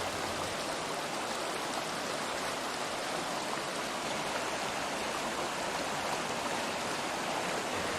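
Türisalu waterfall in Harjumaa, Estonia, pours steadily over soft Cambrian sandstone steps. The rush of falling water is a dense, unbroken hiss that holds an even loudness from start to finish, with no voices.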